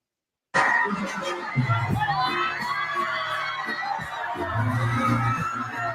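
Arena crowd cheering and shouting during a performance in a nearly full venue, a loud continuous roar with children's shouts and voices mixed in, steady throughout after a sudden start.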